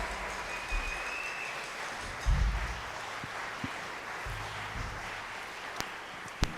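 Audience applause for a high school jazz ensemble at a jazz invitational, a broad crackling clatter of clapping from a crowd that holds steady throughout, with a few sharper claps standing out near the end.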